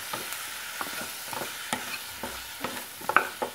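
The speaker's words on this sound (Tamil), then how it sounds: "காயை போட்டு நல்லா வதக்கிக்கோங்க." Mullikkai vegetable pieces sautéed in a pan for tamarind curry, soft frying sizzle under repeated spatula scrapes and taps at an irregular rhythm, close and moderate, with no voices.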